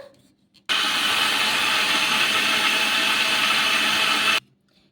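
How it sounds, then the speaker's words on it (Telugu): A kitchen mixer grinder blends semolina and curd batter in one loud, steady whir lasting almost four seconds, starting and stopping abruptly with quiet before and after. "మూత పెట్టేసుకొని ఇప్పుడు మెత్తగా మిక్సీ అయితే పట్టేసుకుందాం"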